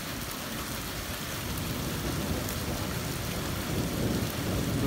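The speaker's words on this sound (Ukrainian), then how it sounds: "аномальна блискавка, пішов град, дощ" A thunderstorm in Nebraska with rain and hail, a dense, steady wash of rainfall roaring evenly throughout, with low rumbling underneath that swells slightly toward the end.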